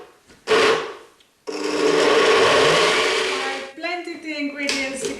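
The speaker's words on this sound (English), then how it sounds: "I'm just going to blend all of these ingredients together" A kitchen blender purees tomato and Parma ham soup, a short burst followed by a long, loud, steady whirring grind that shifts pitch as it slows near the end.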